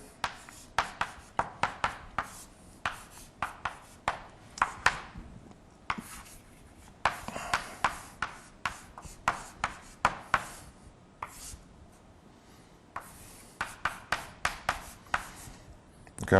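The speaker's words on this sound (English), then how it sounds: "Okay, I'm going to write it the next down here." A heat exchanger equation being written out by hand: close, quiet marker or pen strokes tapping and scratching in quick irregular clusters across the whole stretch, with no talk.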